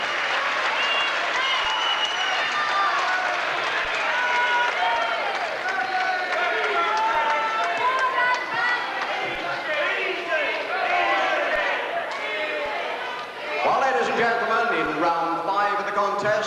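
A World of Sport wrestling crowd in a hall applauding and cheering after the challenger takes the first fall in the fifth round, sustained loud clapping and crowd noise throughout with a commentator talking over it.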